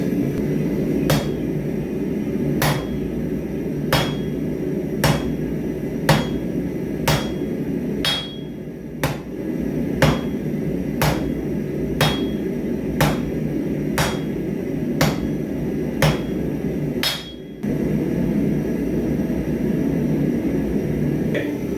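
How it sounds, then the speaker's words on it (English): Steel leaf keyring stock being forged to a tapered point with a hammer at home, sharp metallic strikes ringing out at an even, steady pace over a continuous low forge roar. "we're going to want to forge a little bit of a taper on the point"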